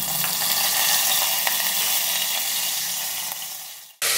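Curry leaves sizzle in about three tablespoons of hot oil in a cooker pan for a Kerala egg curry, a steady loud crackling hiss that fades slightly before stopping abruptly.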